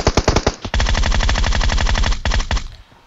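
Groza rifle in PUBG Mobile firing rapid full-auto bursts, a few quick shots, then a long sustained stream of loud, close cracks that cuts off near the end.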